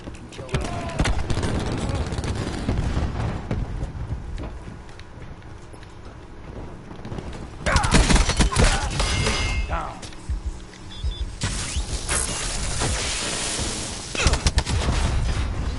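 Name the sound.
cluster grenade explosions in video game Black Ops 4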